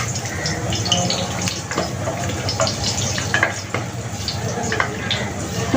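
Whole garam masala and bay leaves fry in hot oil in a pan with a steady, close sizzle. Scattered clicks and stirring scrapes run over it, and no one speaks.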